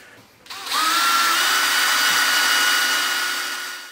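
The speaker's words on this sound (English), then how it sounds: "we're going to drill a hole through all the way through and put a quarter inch bolt through them" A power drill bores a hole through steel hinge plates for an antenna tower swivel hinge, spinning up to a steady, loud whine that holds for several seconds before tapering off.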